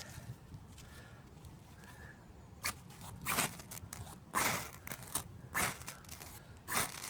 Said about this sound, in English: Pair of scissors this time. And I'm using the blade.